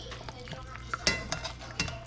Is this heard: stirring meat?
yes